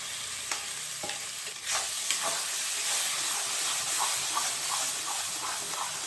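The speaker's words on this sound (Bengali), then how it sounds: "কড়াইশুঁটিগুলো দিয়ে দিচ্ছি।" Green peas fry with spices, salt and sugar in a pan, producing a steady crackling sizzle punctuated by repeated stirring scrapes and clicks, close and moderately loud.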